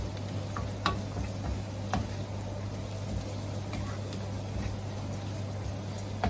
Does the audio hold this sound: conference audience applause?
no